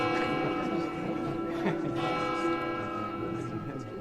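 Bells of the Église Saint-Alexandre ring with sustained, overlapping resonant tones, moderately distant, while a voice speaks faintly underneath.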